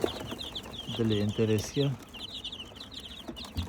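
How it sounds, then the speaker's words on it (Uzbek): Chickens and young chicks give soft, rhythmic clucks close by in a yard, with a person talking over them. "Mana bu yerda jo'jalar bor."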